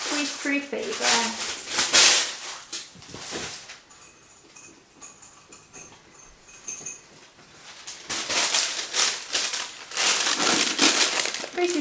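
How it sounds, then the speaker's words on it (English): Greaseproof paper being crinkled and folded over a jar of sourdough starter in a home kitchen, loud close rustling bursts at the start and end with a quieter stretch between and occasional light clinks. "Greaseproof paper."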